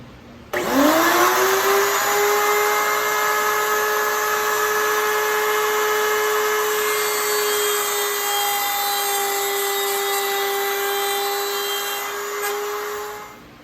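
A table saw spins up and cuts a groove steadily through oak with a sustained high whine for about twelve seconds, then winds down.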